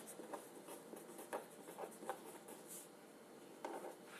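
Writing on a board during a maths lecture: faint, quiet scratching strokes in short irregular bursts against a soft room hiss, with no talking.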